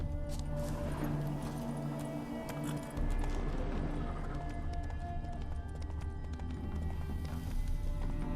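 Galloping hooves of the horse Roach in a Witcher game: a continuous rhythmic pounding of hoofbeats with a steady drumming rumble underneath, loud and close throughout.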